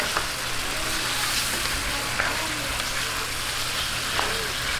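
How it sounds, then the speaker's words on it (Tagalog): Chicken being stirred in a pan with softened tomatoes, giving a constant dense hiss of frying that holds evenly throughout, with only faint scrapes now and then and no speech over it. "lalagay na po natin itong ating chicken. Ayan, haluin lang natin."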